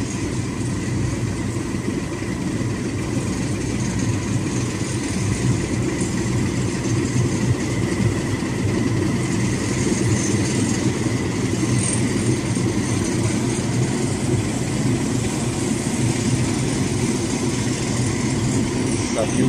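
Exhaust from the funnel of the ship KM Swarna Bahtera, docking in the Makassar Strait, gives a loud, steady low engine rumble that runs unbroken throughout, with faint talk in the background.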